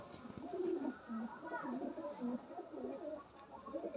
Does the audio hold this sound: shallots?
no